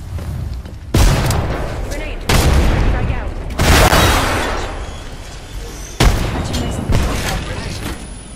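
A thermite grenade in Apex Legends goes off amid combat, with several heavy booms and bursts each trailing into a rushing burn, alongside gunfire and some in-game voices.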